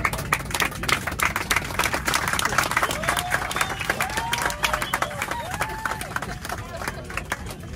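Passengers aboard an Easyjet A321neo clap for the captain after landing, a burst of many sharp, quick hand claps inside the cabin with people talking and cheering among them.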